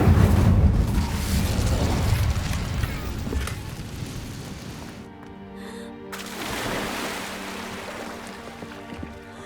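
A roaring whoosh of the Incendio fire spell in Hogwarts Legacy, loud at first with a heavy low rumble, then fading into a quieter stretch before a softer swell of flame and crackle returns.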